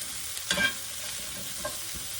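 Pork chops cook in light oil in a pan, a soft steady sizzle broken by a brief clink of a utensil and a faint stir.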